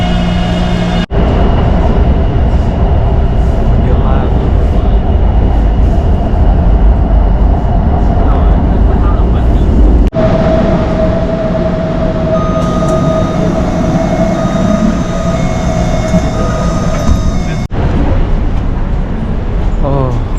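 Inside a crowded train in Taipei, a steady loud rumble of rolling rail carriage noise continues throughout, with faint tones and brief clunks, while someone talks over it.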